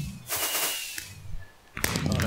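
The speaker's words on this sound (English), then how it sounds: "God, I hate those fireworks." Fireworks going off in a Minecraft-style modded survival game, a rapid crackling burst of sharp pops followed by a pause and then another loud crackling volley.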